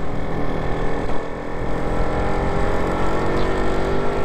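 A Lambretta scooter's two-stroke engine drones steadily and close, climbing under throttle through a gear change in third, with no voices over it.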